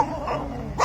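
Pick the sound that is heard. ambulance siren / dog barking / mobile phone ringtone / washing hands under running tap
dog barking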